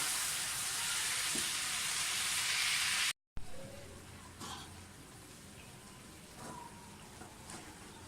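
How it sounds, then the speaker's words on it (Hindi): Chicken with garlic and ginger frying for a black pepper chicken karahi, an intense bright sizzle that cuts off abruptly, then quieter crackling and scattered stirring clinks nearby, no voices. "टमाटरों को चिकन को हम थोड़ा सा भूनेंगे"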